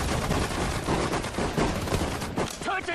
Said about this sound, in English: Trying to fire grenades here